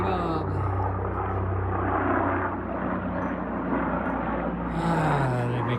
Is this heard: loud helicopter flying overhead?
yes